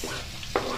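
Onion and garlic frying in a pan, a steady sizzle with a brief scrape of a stirring utensil near the end, close and short.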